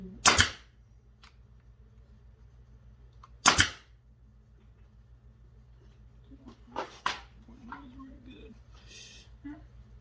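Staple gun firing into the wooden frame of an aquarium canopy: two loud, sharp snaps about three seconds apart, then a weaker pair of clicks and some handling noise, close up.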